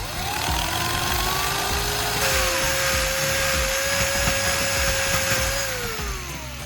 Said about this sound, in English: use a drill to carefully make a hole in the spark plug.